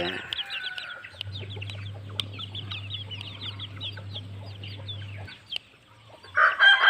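Fighting roosters at a breeding farm crow and cluck in the open air, with chirping birds nearby and a steady low hum running through most of the clip.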